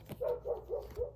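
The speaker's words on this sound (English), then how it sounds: "Sorry for the dog barking. She likes to bark." A dog barks four times in quick, evenly spaced succession, medium-loud and slightly distant indoors, with no talking over it.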